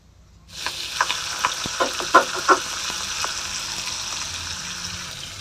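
Green chilies dropped into hot oil in a wok for a cauliflower roast, a sudden burst of sizzling with several sharp spitting pops early on that settles into a steady close hiss.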